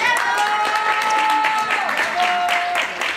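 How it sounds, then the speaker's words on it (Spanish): Guests at a quinceañera party clap together in a short, steady burst, close and full, while a voice and music carry on over the applause. "A ver, de nuevamente otro aplauso más fuerte."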